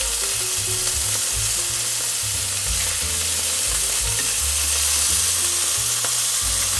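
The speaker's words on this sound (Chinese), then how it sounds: "煎到一面恰恰就可以了哈。" Scallops pan-frying in a hot pan give off a loud, steady sizzle that carries on unbroken for several seconds, with no one talking.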